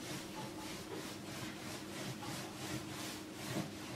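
Rhythmic rubbing strokes of a rolling pin pushing croissant dough across a floured table, a steady back-and-forth scrape repeating about every half second, close and even throughout.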